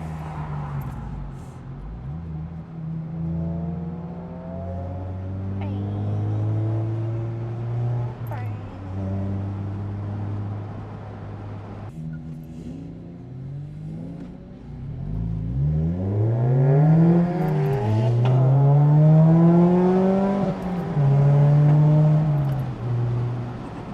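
Car engine heard from inside the vehicle on a short drive, droning steadily then revving and accelerating through gear changes in the second half, loud and close, with voices talking at times.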